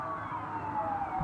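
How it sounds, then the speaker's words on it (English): Several emergency vehicle sirens wail together at a steady, moderate level, a continuous layered rise-and-fall with a low traffic rumble beneath and no voices. "That's a lot of sirens."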